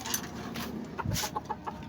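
A Silkie hen gives a few soft, short clucks close by, with faint rustling in the background.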